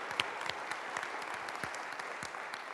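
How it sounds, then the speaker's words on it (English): Conference audience at an indoor air science plenary session gives a round of applause, a fairly faint but steady crackle of many hands clapping in a large hall. "so round of applause"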